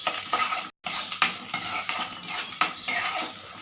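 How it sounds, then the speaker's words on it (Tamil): A spoon stirs green chillies and dried red chillies through hot oil in a pan for lemon rice, with steady close scraping and clinking over a continuous sizzle and a brief break in sound. "இது எல்லாத்தையும் நல்லா கலந்து விட்டுடலாம்."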